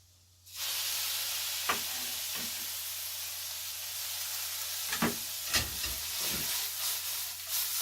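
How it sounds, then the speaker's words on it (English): Red peppers drop into a pan of sizzling butter and garlic, starting a loud, steady hiss of frying, broken by several clattering stirs and scrapes against the pan. "after your garlic gets a little bit of sizzle"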